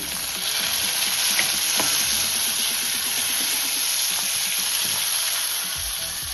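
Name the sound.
onions and chopped tomatoes frying in a pan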